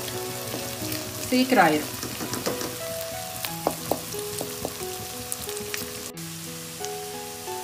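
Eggs frying and being scrambled in a pan for egg idiyappam, a steady close sizzle with scraping stirs and light taps of a utensil, while a voice speaks briefly over it.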